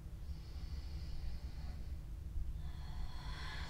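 A long, deep breath drawn during a yoga stretch with fingers interlaced behind the back, a soft airy hiss that swells, then a second airier exhale rises toward the end over a low steady hum.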